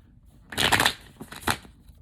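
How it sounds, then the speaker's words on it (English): Tarot cards shuffled by hand in two quick bursts, a dense flutter close to the microphone followed by a shorter riffle, with quiet pauses around them. "I heard 6 shuffles."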